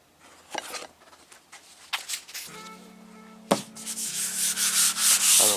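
Sanding block loaded with 150-grit sandpaper rubbed over the bodywork of a box Chevy Caprice, giving rough scratchy strokes that build into steady, loud back-and-forth rasping toward the end, close up with no talk.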